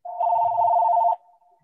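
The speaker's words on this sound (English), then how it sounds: "That's the prison city phone." A telephone gives a single loud, steady electronic ring lasting about a second, close and alone, then cuts off to a faint fading tail.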